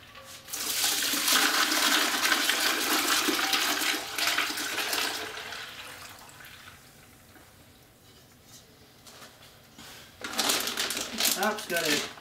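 A gallon of ice water for brining a turkey is poured with a loud, steady gush of water, a pause, then another burst of pouring with ice clinking.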